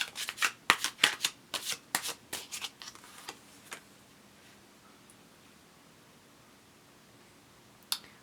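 Tarot cards riffle-shuffled in rapid bursts of crisp, close flutters over about four seconds, then quiet with a single snap near the end.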